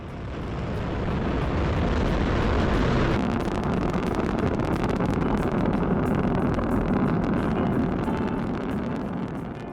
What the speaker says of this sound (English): the Long March 2D rocket was launched from China's Jiuquan Satellite Launch Center